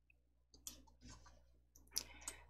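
A few sharp, quiet computer mouse clicks spaced irregularly while deleting a spreadsheet column in Excel, with no talking over them.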